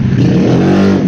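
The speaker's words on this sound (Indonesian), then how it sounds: "Iya, sangat mengganggu sekali itu suara motor." A motorcycle engine revs at the roadside, loud and near, a thick, steady growl sustained without a break for about a second.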